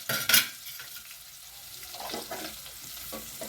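Mint paste tipped into a pan of sautéed onions for mint rice: a sharp clatter as it lands, then a soft ongoing sizzle with light stirring and scraping of a spoon against the pan.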